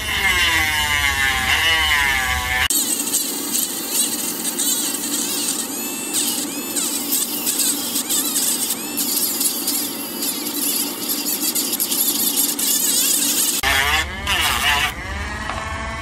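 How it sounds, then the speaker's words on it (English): A power grinder cuts into a part during a USB charger install on a Sur Ron Light Bee electric motorbike. It gives a loud, sustained, buzzing whine of about ten seconds, with brief spin-up and spin-down noise at both ends. "I'll be grinding this."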